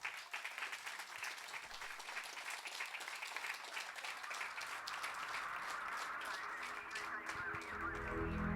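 Studio audience applause in a large TV studio greets a singer's entrance, a dense, steady wash of clapping sustained throughout, with music starting to rise underneath toward the end.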